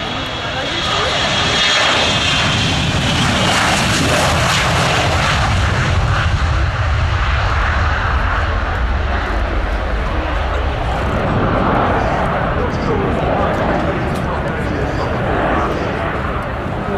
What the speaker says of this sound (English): We just let this US Air Force Gulfstream C-37A off.